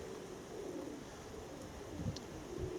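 Baku pigeons cooing softly amid steady strong wind, a few low coos rising near the end over constant wind rumble.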